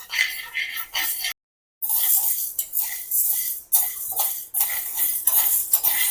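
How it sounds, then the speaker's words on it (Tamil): Ingredients roasting in a pan are stirred with a utensil, giving repeated metallic scrapes and clinks in quick succession with a brief silent gap, close and fairly loud. "இது கிளறிக்கிட்டே இருங்க அப்படியே ஒரே மாதிரி விட்டோம்னா கறிக்கிடும்"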